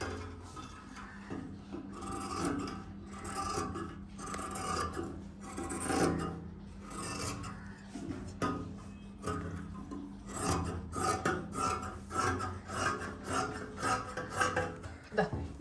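Scissors cut through fabric for a top, giving a run of rasping, scraping snips and rubs that come in uneven bursts, close by and fairly quiet, with brief pauses between strokes and no talk.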